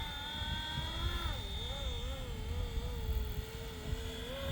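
A Flywing FW450 RC helicopter flies outdoors in wind with a steady high rotor and motor whine. The pitch dips and wavers as it manoeuvres, over constant breezy background noise.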